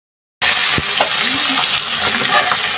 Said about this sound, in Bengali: মাছটা একটু কষায় নিই টমেটোর সাথে।